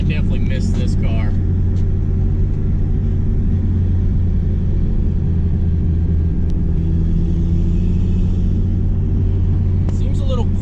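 A 98 car fitted with a swapped B20 engine runs steadily with a low rumbling drone, close by and continuous, while people talk briefly near the start and end.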